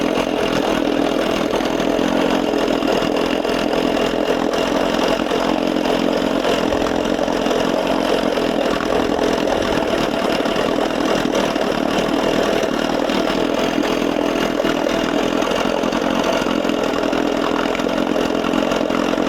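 A Johnson 6 outboard motor undergoing conversion runs loud and steady up close, its buzzing drone holding constant as it is leaned out and picks up RPMs.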